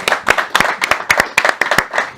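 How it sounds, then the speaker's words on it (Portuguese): A small audience gives a brief round of applause, about a dozen sharp, close hand claps in an uneven rhythm, loud and alone with no talk over them. "bate uma salva de palmas pro André."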